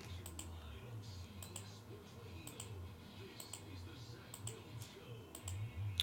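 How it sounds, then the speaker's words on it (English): A computer mouse clicks repeatedly on an online randomizer button during a sports trading card group break, sharp quick clicks in short irregular bursts, soft and close, with a faint voice in the background. "So we're going to click the randomizer 8 times."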